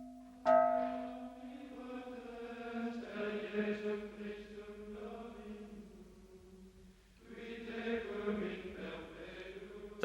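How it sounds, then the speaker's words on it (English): A recast medieval church bell from Norton Priory rings with a sustained, harmonic tone, struck once near the start and again partway through, each stroke decaying slowly in a clear, fairly close sound with no talking. "the Norton bell looks and sounds unchanged."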